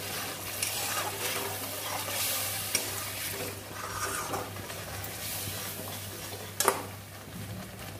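Butter paneer gravy cooks in a pan after water goes in, giving a soft bubbling sizzle with gentle stirring and an occasional sharp tap of utensil against pan, low and steady.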